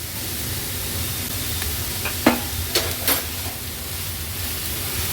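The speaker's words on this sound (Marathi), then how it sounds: "भाजी ऍड केल्यानंतर थोडी मिक्स करून घ्यायची आहे" Tender bamboo shoot sabji sizzles steadily in a pan, a constant frying hiss with a few scraping clinks of a spoon stirring partway through.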